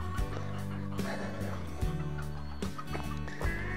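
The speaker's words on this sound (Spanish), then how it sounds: "ahí están las gallinitas" Ranch hens cluck in short, repeated bursts close by, with fuller clucks and rustling mixed through the passage and no talk.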